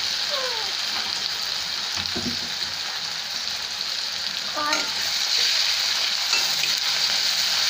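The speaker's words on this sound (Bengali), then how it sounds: "সেটাকে সুন্দর করে ভেজে নেবো আমি, লাল লাল হবে ভাজা" Taro leaves fry in hot oil with a steady, close, dense sizzle and crackle that carries throughout, with a few faint knocks and a distant voice underneath.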